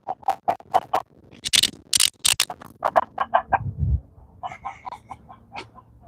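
Backyard chickens cluck noisily close by in short, repeated bursts, with a few louder squawks mixed in and brief gaps between the calls.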